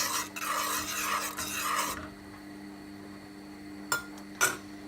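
A spoon scrapes and rasps around a pot of asparagus soup ingredients with vegetable stock cube for about two seconds, followed by quiet and two brief clinks.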